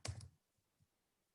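A short burst of keyboard typing, a few quick clicks close together, followed by two faint taps and then quiet.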